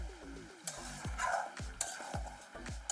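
Mutton curry with potatoes is stirred in a pot, a spatula scraping and knocking in repeated sweeps over a quiet, low sizzle, close and fairly soft.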